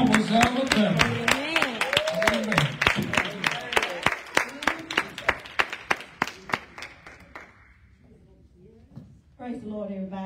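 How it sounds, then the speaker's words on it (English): Church congregation clapping hands in a steady, loud rhythm under a sung or shouted lead voice, the beats fading out near the end before a voice returns. "Come on, give me one more hand clap tonight."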